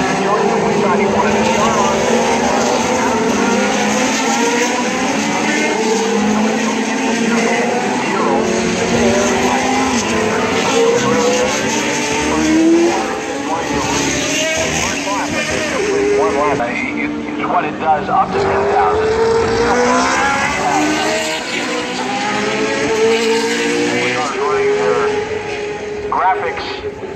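Historic Formula One race cars, including a Lotus 91, scream past at Laguna Seca, with engine notes rising and falling as each car passes, under steady commentary.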